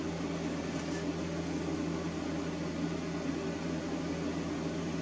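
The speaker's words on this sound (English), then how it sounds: "that humming in the background is my fan heater" A fan heater hums steadily in a room with no break or change over the whole stretch, a low, even mechanical drone heard alone.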